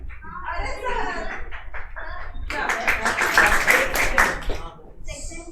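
Students clap in a classroom, a dense burst of hand claps swelling in the middle and then fading, with children's voices chattering around it.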